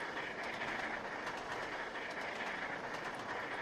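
Steam locomotive in the Trainz: A New Era game hauling up a 1 in 100 gradient on the Settle and Carlisle route, giving a steady, dense rolling rumble with a continuous hissing, working tone throughout and no talk.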